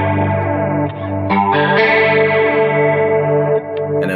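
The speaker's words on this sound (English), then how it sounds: "I'm going to use chorus because who doesn't love a good chorus?" An electric guitar runs through a Revv G20 style preset on a POD Go with chorus and distortion, sounding out shimmering, wavering sustained chords. The sound is close and full, with no speech.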